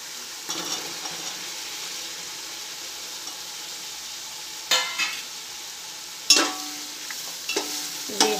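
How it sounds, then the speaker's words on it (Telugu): Onions frying in a pan for chicken biryani, a steady soft sizzle with a few louder stirring scrapes and clinks, close and alone. "ఇది గోల్డెన్ కలర్లోకి వచ్చే వరకు మనం వేయించుకోవాలండి"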